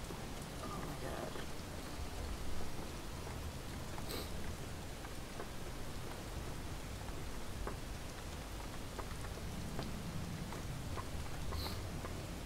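Rain falls in the video game Relics of Hyrule, a soft, steady patter with occasional sharper drop ticks, fairly faint and continuous throughout.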